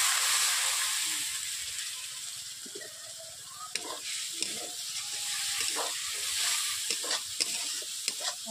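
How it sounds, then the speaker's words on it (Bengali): Spices sizzle and hiss in a wok with a little water added for a rohu fish curry, with steady frying noise and intermittent scraping stirs throughout, no talking. "কড়াইতে যেহেতু বসে যাচ্ছে তার জন্য আমি অল্প করে জল দিয়ে দিচ্ছি।"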